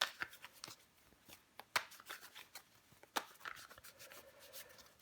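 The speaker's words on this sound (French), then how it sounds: "On va recouvrir des cartes." Tarot cards being handled on a table: a quiet, close series of sharp papery flicks, snaps and slides at irregular intervals, with brief shuffling rustles between them.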